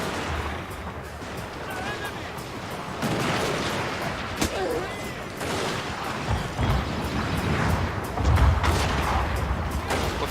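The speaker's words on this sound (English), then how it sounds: "Heavy fire from artillery." Artillery fire in the Total War: Shogun 2 battle game: dense, continuous booms and crackling gunfire with sharp reports, loud and layered under a busy battlefield din.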